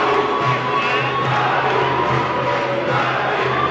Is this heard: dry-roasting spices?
no